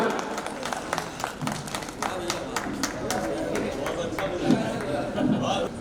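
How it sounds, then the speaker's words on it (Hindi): Crowd applause welcoming Sumitra at a gathering, a mid-distance patter of many hands clapping under chatter and a few voices. "सर्वप्रथम जोरदार तालियों से स्वागत करें सुमित्रा सर।"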